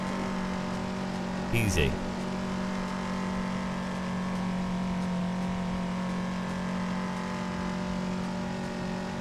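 A race car in the Assetto Corsa driving game drones with a steady, buzzy engine note like a small go-kart motor, held at a constant pitch throughout, while someone speaks briefly over it.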